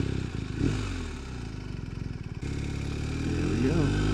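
A motorcycle engine runs close by with a rapid idling pulse, then pulls away with rising revs and rattling mechanical clatter.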